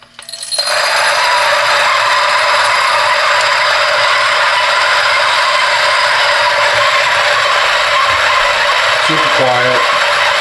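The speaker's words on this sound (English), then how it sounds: "Turn the grinder on. We're at 600 RPM." A DF64V coffee grinder runs at 600 RPM, a loud, even whirring hum that starts abruptly and holds steady close by, with a faint voice briefly near the end.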